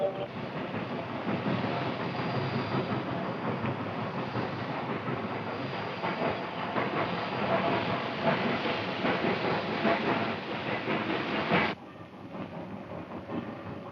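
A train runs steadily in an old 1938 Western setting with a continuous rumbling, hissing roll and rhythmic clatter that cuts off abruptly near the end, leaving quieter background.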